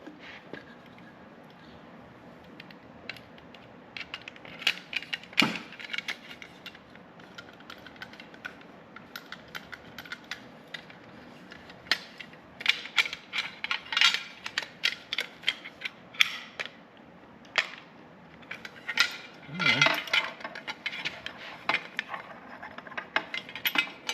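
A pop rivet goes into a jalousie window on a 1970 VW bus camper: close, intermittent mechanical clicks, ratcheting snaps and small creaks, scattered irregularly with a few sharper bursts.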